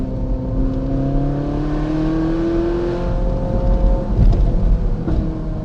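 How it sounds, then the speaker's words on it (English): A Ferrari 458 Spider's engine drones steadily and loud from inside the car, its pitch slowly climbing under load. A few sharp crackles break through near the end. "Listen to that engine backfiring. God, it sounds so good."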